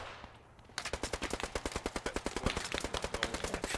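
Rapid automatic gunfire from Post Scriptum sounds from the woods in a dense, steady run of sharp cracks, loud and close, following a short quiet stretch.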